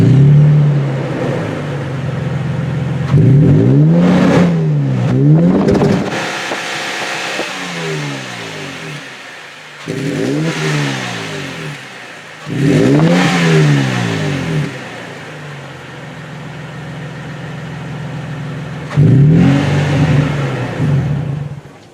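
A 2020 Toyota Tacoma TRD Pro engine and exhaust rev and drone loudly, rising and falling through several gear changes in repeated sweeps, with quieter gaps between pulls.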